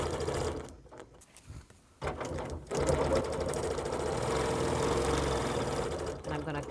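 A sewing machine stitches a quilted road pattern with a fast, steady mechanical whir that runs loud and continuous after a brief stop-and-start at the beginning.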